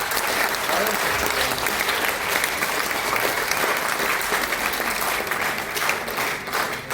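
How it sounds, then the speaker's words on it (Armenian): Audience applause in a culture palace theatre: loud, sustained clapping from a large crowd filling the whole stretch, fading slightly at the end. "Եկեք բարձր ծափարենք։"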